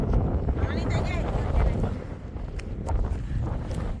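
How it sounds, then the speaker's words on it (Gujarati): Wind gusts across an open farm field, a heavy rumbling buffet against the microphone with people talking through it. "અને અવાર તો પવન જ ફૂંકાય."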